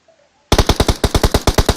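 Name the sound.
gunfire in PUBG Mobile video game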